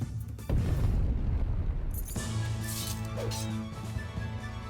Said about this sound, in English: I have a feeling that the explosion is probably going to take it out